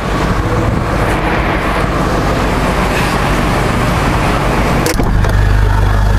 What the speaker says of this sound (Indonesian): tadi siapa yang penasaran sama suara knalpotnya? Ya, suara knalpotnya begini.